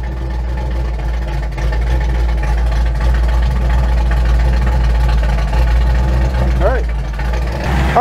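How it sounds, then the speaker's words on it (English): Car engine fitted with a Holley Sniper EFI throttle-body fuel injection system idling, giving a steady, close, low rumbling drone that holds evenly for the whole stretch. "Idle should come down to about 850 or so."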